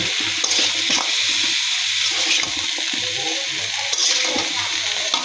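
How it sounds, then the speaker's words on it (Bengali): Shrimp with onion greens stir-frying in a pan, a constant close sizzle broken by periodic stirring scrapes of the spatula. "এখন দিয়ে দিব পেঁয়াজ কলি।"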